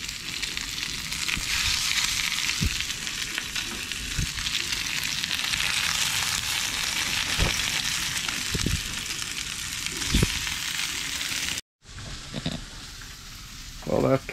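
Spiced trout pieces fry in a pan with a steady, dense sizzle and occasional pops and clicks, close and fairly loud, briefly cutting out near the end before the sizzling resumes.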